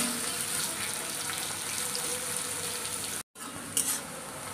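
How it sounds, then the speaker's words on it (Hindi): Onions fry in a pan toward light brown for chicken do pyaza, a soft continuous sizzle heard close and alone, broken by a brief silent gap before it resumes. "प्याज को लाइट ब्राउन कलर जैसा फ्राई करेंगे"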